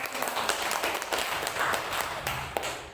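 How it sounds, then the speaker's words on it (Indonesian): Audience applause at an awards-related gathering, a steady dense patter of many hands clapping throughout, moderately loud with no speech over it. "Terima kasih, tepuk tangan untuk kita."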